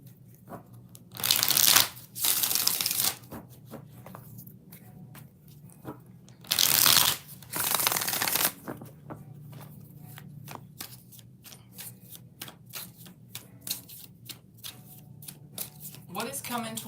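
Tarot cards riffle-shuffled twice in a row, crisp and close, with a pause between pairs of bursts and quiet ambience around them.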